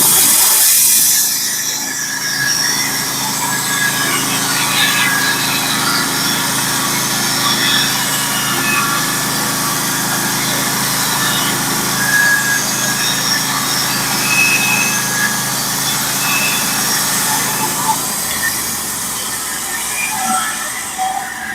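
Sawmill blade running through a log to cut 1x12 barn board, a steady loud whining drone with a high buzzing edge lasting throughout, easing off near the end.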